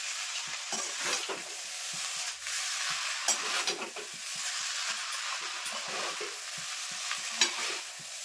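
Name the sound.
stirring chow mein with vegetables and sauce in a pan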